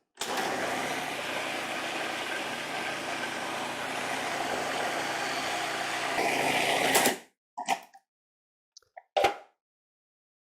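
A food processor blends guacamole ingredients in a continuous loud whirring burst for about seven seconds, then stops, followed by a few short clunks and handling sounds in silence.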